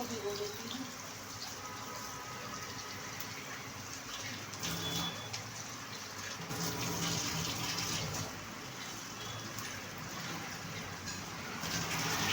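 Tap water runs steadily into a bowl of rice set to soak in a home kitchen, a continuous close gush lasting throughout with faint background noise.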